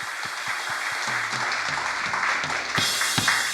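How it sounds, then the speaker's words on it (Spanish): A church congregation claps for the Lord during a sermon, scattered hand claps building into steady applause that swells louder near the end, with no voices over it. "Dale un aplauso al Señor."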